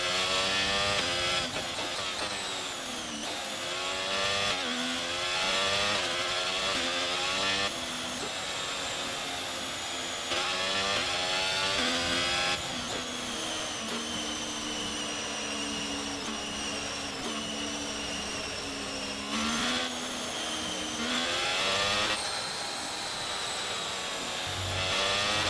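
A Formula 1 race car engine in the F1 22 video game during a league race at the Canada round, a loud sustained high-revving whine with rising gear-by-gear sweeps and brief shift breaks, continuous for the whole stretch without talk.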